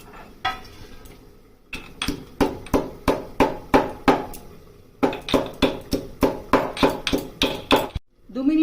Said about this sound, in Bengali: আমি ভেজে রাখা জিরেগুলোকে একটু গুঁড়ো করে নিচ্ছি।